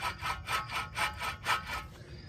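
A worn wheel bearing on a 2003 Volvo S60 T5-M hub assembly gives off a rhythmic raspy grinding, about six close, even scrapes that fade at the end.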